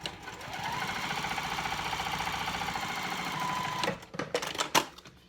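A sewing machine top stitches a card slot on an all-cork clutch wallet, running in a steady, fast mechanical whir for about four seconds before stopping, followed by a few sharp handling clicks.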